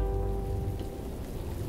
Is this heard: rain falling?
yes